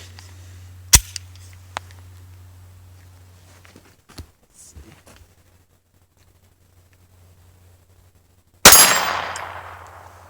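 Taurus TX22 .22 pistol firing outdoors: a sharp crack near the start, a few small metallic clicks and handling noises, then a second loud shot with a long ringing decay, close and with no speech.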